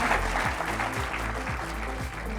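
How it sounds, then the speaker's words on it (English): An audience at a workplace training session on psychosocial hazards claps for the actors, a dense, steady round of applause that fills the whole moment at moderate loudness. "like all good actors, they do love a round of applause"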